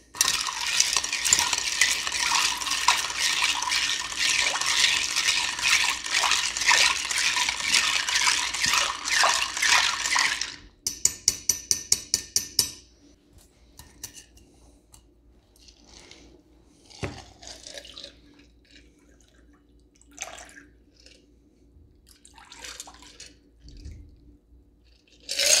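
A bar spoon stirs a classic Manhattan with sweet vermouth and bitters over ice, a rapid, continuous clinking and swirling of ice for about ten seconds, then scattered faint clinks and taps amid near silence.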